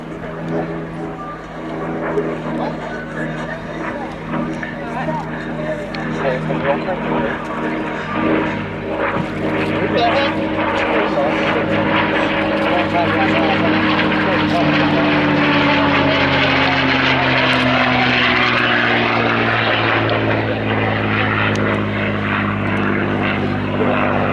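Vintage multi-engine propeller warbird making a low pass at an air show with two engines smoking, a loud sustained droning roar whose pitch slowly sweeps as it passes, with a commentator talking over it.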